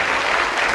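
Steady burst of studio audience clapping sends off two departing contestants on a darts game show, a dense even wash of applause, loud and unbroken with no voices.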